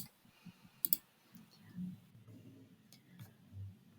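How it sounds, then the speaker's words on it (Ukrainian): Computer mouse button clicks sound faintly and close, a sharp double click near the start and a softer one later, over quiet background murmur. "натискаю кнопочку Продовжити"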